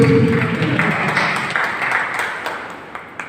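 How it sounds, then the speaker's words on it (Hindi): Applause from an audience welcoming a performer at a club convention gathering, a steady wash of many hands clapping throughout, fairly loud and close, gradually easing off toward the end. "थोड़ा सा तालियों से स्वागत करिए"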